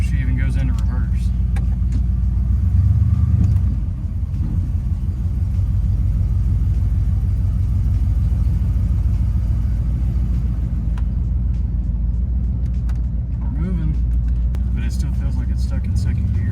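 An old pickup truck's engine fires and settles into a low, rumbling idle, steady and close throughout, with a brief surge early on and faint clicks and rattles over it; someone talks at times above the engine.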